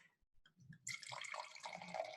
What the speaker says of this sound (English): Let's start by pouring in our left glass the Chablis.